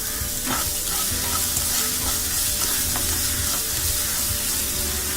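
Chopped onion with a little salt sautés in a hot pan, a continuous close sizzle with occasional stirring scrapes and clicks, no voices.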